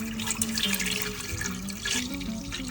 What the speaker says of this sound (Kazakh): Ақырындап сүт құямыз.